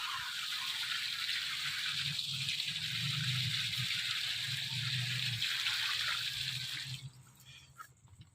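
Water gushes into a livestock feeding trough at a goat farm as a loud, continuous splashing pour that cuts off abruptly near the end, leaving faint drips.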